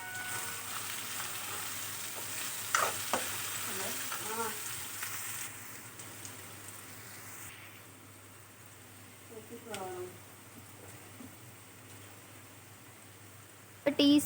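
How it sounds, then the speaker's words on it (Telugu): Ivy gourd pieces fry with a pinch of turmeric in a pan, giving a soft, steady sizzle with occasional stirring scrapes, fading quieter partway through, with brief voices. "ఫ్రై అయ్యాక చిటికెడు పసుపు వేసుకొని మనం దొండకాయ ముక్కల్ని కలుపుకోవాలి."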